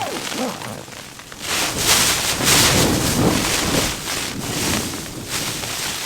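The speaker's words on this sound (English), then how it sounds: "This is how the winds were pretty much the entire night." Strong winter-storm winds roar against a tent, a loud continuous buffeting that swells and eases in gusts with no talk.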